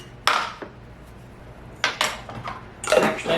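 Glass canning jars clink and knock as spices go into their bottoms while giardiniera is prepared. Three short, sharp bursts of clinking are spread across a quiet kitchen background.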